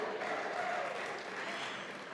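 Soft, distant applause at a parents' recognition gala, with a steady patter of many hands clapping, fading slightly toward the end.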